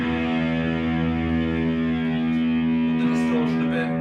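A distorted electric guitar, a Burny or Gibson, holding a sustained, buzzing chord, steady and loud, with a few brighter scratchy picked notes toward the end.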